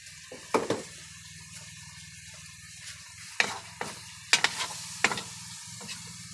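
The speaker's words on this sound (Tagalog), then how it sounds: "Lalagay natin ang purong gata." Pure coconut milk pours into chicken simmering in a pot, giving a low bubbling hiss with several sharp splashy stirring bursts spaced through the clip and no talk.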